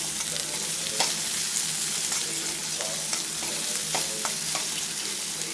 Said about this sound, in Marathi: कांद्याला आपण हलवून घेऊयात।